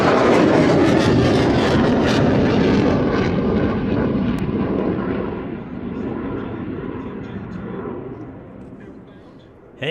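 An aerobatic airplane rolls through knife-edge and inverted maneuvers, its loud, broad engine roar dominating close by before slowly fading and easing off toward the end.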